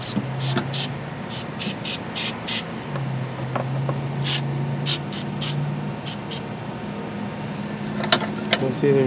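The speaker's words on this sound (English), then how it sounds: "spray this all down with some battery corrosion cleaner stuff" Short repeated hisses of battery corrosion cleaner sprayed onto a corroded car battery in a 2012 GMC Yukon Denali, several bursts in a row with a quiet background hum.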